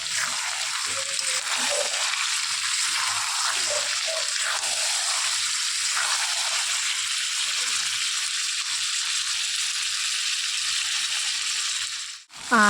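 Mutton frying in a kadai with raw potatoes, a steady loud hiss and sizzle that runs without pause, with faint scraping and bubbling in the pan and a short clatter at the very end.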